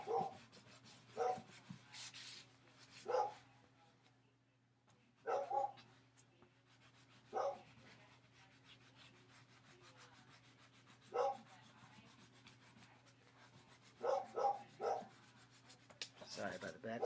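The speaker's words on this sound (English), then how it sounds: "Sorry about the background noise with the dog." A dog barks now and then in the background, short, distant bursts scattered over the steady scratch and rub of pencil drawing on paper.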